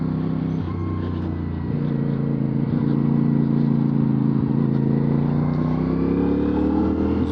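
A 2025 CFMoto CLC 450 motorcycle drones steadily while being ridden, its loud engine and wind noise continuous and close throughout, with a slight rise in pitch toward the end.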